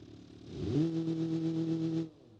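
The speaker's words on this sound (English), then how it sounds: "The engine runs, if not braking. Doesn't sound as impressive as some of our other engines, not too surprising." Car engine in the BeamNG driving game, an engine built in Automation for a sports car: a brief rev rising then holding a steady mid-pitched drone for about a second before cutting off.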